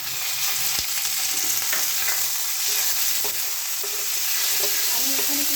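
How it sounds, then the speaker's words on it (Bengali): Tomatoes hit lightly browned onions frying in a pan, setting off a loud, steady sizzle with occasional stirring scrapes and crackles close by. "এবার আমি টমেটোগুলো দিয়ে দেবো।"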